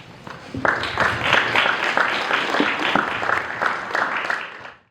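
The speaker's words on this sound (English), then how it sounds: "A round of applause once again to our panel." Conference audience applauding a panel at HYLEC 2025: dense, sustained clapping from many hands, rising quickly, holding steady for several seconds, then fading out.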